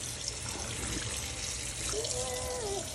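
Tap water runs steadily from a faucet to rinse out bleach-dyed clothing indoors, a continuous close splashing hiss with a faint high whine rising partway through.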